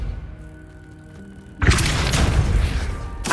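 Depulso spell cast in Hogwarts Legacy, a sudden loud burst breaking in over quiet ambient music, followed by a sustained roaring blast that fades slightly before a second sharp hit at the end.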